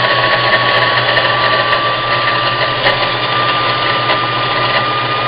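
A Singer Scholastic sewing machine runs at speed while winding a bobbin, giving a loud continuous whirring motor hum with a steady high whine, alone and unbroken.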